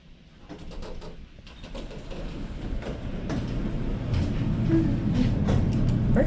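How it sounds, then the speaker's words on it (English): An elevator runs in an apartment building, a low rumbling hum that swells steadily louder with faint clicks and rattles over several seconds, with no talk. "Elevator."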